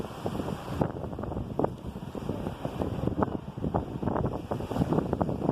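Strong, cold wind buffets the microphone on Cleethorpes beach near the pier, a rough continuous roar with gusty thumps and surf mixed underneath.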